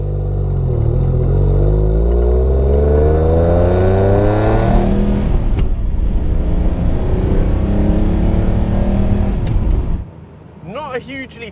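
A Citroen SM with its Maserati engine pulls hard through the gears, the rising revs climbing in repeated sweeps with gear changes between, loud and close, before fading into softer sounds at the end.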